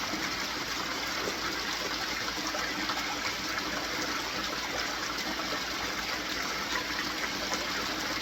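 Water pumped at high flow rushes through gold prospecting sluice mats by the Wisconsin River, a loud, steady, continuous gushing roar with no pauses.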